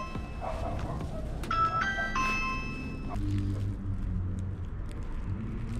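A doorbell chime rings out a short melodic ding-dong sequence at a customer's door, fairly close, followed by quieter background rumble.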